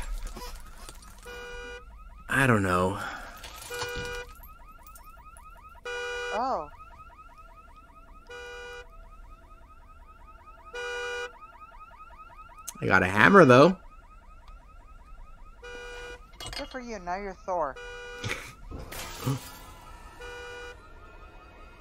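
A car alarm in the horror game Visage blares in regular repeating honks for the whole stretch, while people talk and exclaim over it at intervals.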